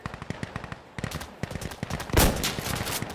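Shotgun fire in the Insurgency video game, a quick run of loud, sharp close-range blasts at an uneven rhythm, with a heavier boom near the end.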